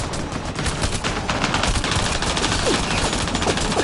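Continuous dense gunfire from Mass Effect Andromeda, many rapid overlapping shots forming a steady loud barrage for the whole stretch.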